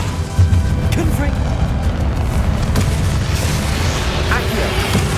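A Confringo fire spell blast in Hogwarts Legacy during a battle, a loud booming impact followed by continuous heavy rumbling combat noise with further bursts and a shouting voice in the mix.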